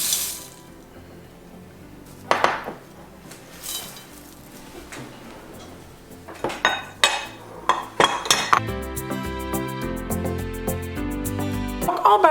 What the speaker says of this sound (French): Fait qu'en premier, on mélange les céréales.